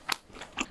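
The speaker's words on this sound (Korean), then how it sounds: "여기는 크러스트에 이렇게 소세지가 들어가 있어. 특이하니까 뒤에서부터 한번 먹어볼게요." Sausage-stuffed pizza crust bitten close to the microphone: two crisp crunchy bites about half a second apart, with a soft chewing sound between them.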